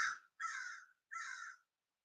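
A crow caws three times in a slow series, each call harsh and fairly close, with silence between calls.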